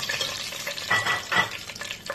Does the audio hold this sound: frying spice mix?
yes